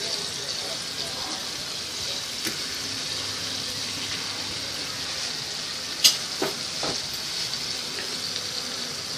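Tandoori prawns fry on a flat tawa with a steady, moderate sizzle, broken by a couple of sharp metallic clinks as they are turned. Quiet talk may run underneath.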